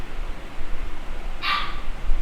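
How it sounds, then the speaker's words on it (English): A single short dog bark rings out once midway, bright and fairly close, over a quiet murmuring background. "Woof again. Another woof."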